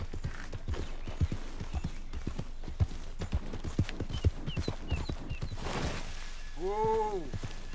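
Horse hooves from Red Dead Redemption 2 clip-clop steadily at a walking pace across the ground, close and even in rhythm, ending with a short whinny-like tonal call.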